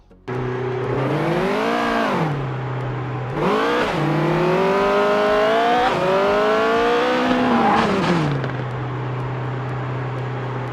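A high-revving 2026-regulation F1 race car engine in a sim racing game drones alone, climbing in pitch through gear changes, dropping, then rising again several times before settling to idle.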